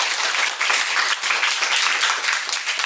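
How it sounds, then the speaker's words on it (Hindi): A classroom audience breaks into steady, dense applause at a quiz session modeled on a TV quiz show, many hands clapping together at an even, sustained level throughout. "ताली बजाइए"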